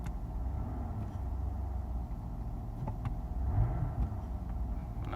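A 2003 Mercedes S-Class engine idles as it warms up, a steady low rumble close by that swells briefly with a light touch of gas, with no one speaking.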